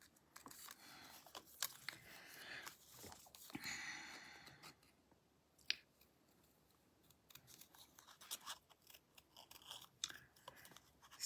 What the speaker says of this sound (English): I'm going to do this edge here real quick and get rid of some of this white paper.